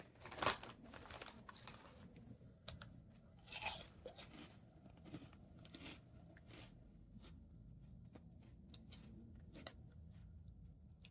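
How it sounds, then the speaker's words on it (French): Crinkly plastic snack packet of sweet Monster Munch being pulled and torn open, with sharp crackles and rustles in bursts between quiet pauses, close and faint. "Je vais essayer d'ouvrir le packaging."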